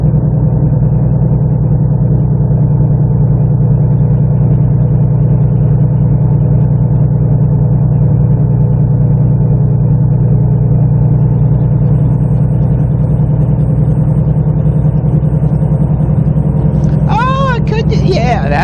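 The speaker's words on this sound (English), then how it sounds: "I really like the sound of this truck now" A truck engine in American Truck Simulator drones steadily at a low idle for the whole stretch, a loud, even rumble with a constant hum, and a few faint chirpy sounds come in near the end.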